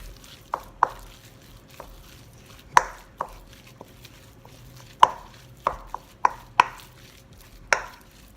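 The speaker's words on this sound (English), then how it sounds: "So in a large pan, I am going to put my minced pork, break it up. You want to mince it up really good here." Minced pork being broken up with a utensil in a large pan, heard as a series of irregular sharp knocks and taps against the pan, with quiet gaps between them and no talking.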